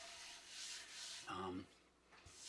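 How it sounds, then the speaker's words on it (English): Close, soft rhythmic rubbing of 800-grit sandpaper on a car body in long back-and-forth strokes, with a brief voice in the middle. "started sanding what I thought was really nice with some 800 grit sandpaper"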